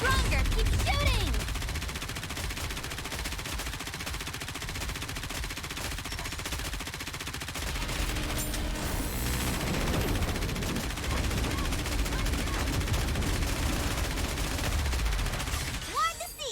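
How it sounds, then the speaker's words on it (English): Sustained gunfire and bombardment fill a Nikke: Goddess of Victory battle, dense rapid shots rolling continuously under game voice lines and music, loud and steady with a brief burst near the end. "Target locked. Commence bombardment. Faster, stronger. Keep shooting."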